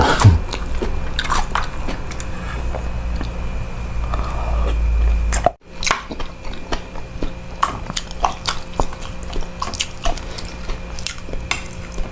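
Braised eggs in five-spice gravy are eaten one whole egg per bite, with repeated close, moist chewing and biting sounds that run steadily throughout. A brief dropout comes midway, and no one speaks.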